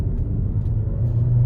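A Skoda Slavia car accelerates hard, its engine a loud, steady low rumble heard from inside the cabin and building slightly toward the end.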